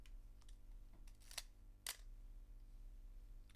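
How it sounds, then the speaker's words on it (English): Two sharp mechanical shutter clicks from a 35mm film camera about half a second apart, crisp and close, in an otherwise quiet room. "That shutter noise is incredible."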